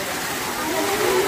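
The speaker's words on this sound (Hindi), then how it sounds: "यहाँ पे फाउंटेन बनाया है" Water from an artificial fountain and waterfall at a zoo crocodile and alligator enclosure rushes in a steady, continuous broadband wash throughout, fairly close, with no other sounds over it.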